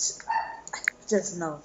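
A pet dog gives a few short, yappy barks close by, mixed in with a person talking.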